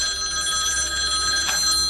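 A telephone rings indoors with a steady electronic trill, clear and moderately loud, lasting the full two seconds without talk over it.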